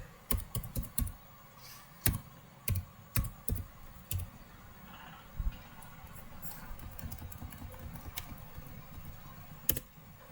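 Irregular clusters of crisp keystrokes come from a computer keyboard as code is typed. The clicks are close but fairly quiet, arriving in short bursts and then thinning out into scattered single taps.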